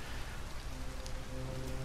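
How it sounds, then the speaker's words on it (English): Steady rainfall in the video game Detroit: Become Human, an even, continuous hiss of drops with faint low rumble beneath, with no talking. "Again, it's raining."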